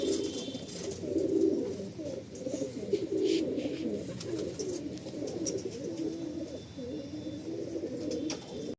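Pigeons coo steadily in an Andhra pigeon loft in Kolkata, a dense overlapping murmur of low throaty calls running throughout at moderate, close range with no talking.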